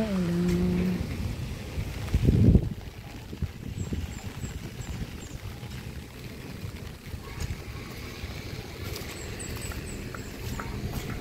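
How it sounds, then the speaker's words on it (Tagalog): Steady broadband patter of heavy rain fills the whole stretch, with a brief louder rush near the start and faint higher chirps drifting in and out. "Nalakas na yata ang ulan."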